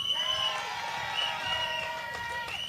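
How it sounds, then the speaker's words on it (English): A crowd at an outdoor independence march rally in Ayr applauds and cheers for a speaker, a steady wash of clapping and whoops with a few shrill calls rising above it. "Big round of applause, please, for Pete Scully."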